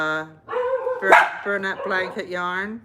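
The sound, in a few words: dogs barking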